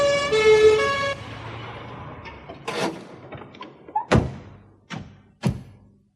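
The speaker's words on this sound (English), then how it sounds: "A siren sounded in the distance." An ambulance siren wails briefly at the start, then gives way to a series of scattered thumps and knocks in a quiet setting.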